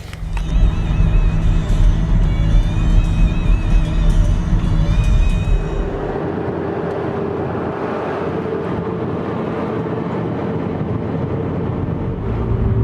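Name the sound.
car driving on the road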